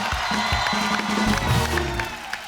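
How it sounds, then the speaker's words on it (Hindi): A studio audience applauds and cheers for Neha Kakkar, a loud, continuous crowd roar with whoops, while a voice talks over it. "जोरदार तालियां एक बार नेहा कक्कड़ के लिए।"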